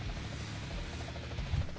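A video game helicopter gives off a continuous rotor drone with a rhythmic low chop, loud and steady throughout and not broken by any speech.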